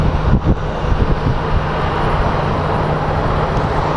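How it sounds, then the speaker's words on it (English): An American Airlines passenger plane at Sky Harbor Airport gives a loud, broad, steady roar of engines and rushing air, close and constant, with some wind buffeting on the microphone and no talk. "we do have some American Airlines planes coming in"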